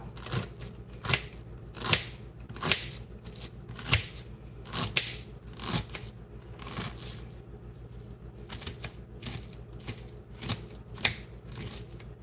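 Vegetables finely chopped with a knife on a board for bhaji, a stream of quick irregular taps and cuts with sharper louder strikes scattered throughout, close and alone without speech.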